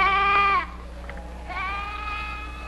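Sheep bleating nearby, two drawn-out wavering bleats separated by a short pause, clear and fairly loud with no talk over them.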